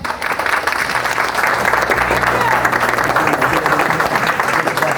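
An audience applauds a man in thanks, a dense, steady burst of clapping from many hands filling the room for several seconds, with no one talking over it.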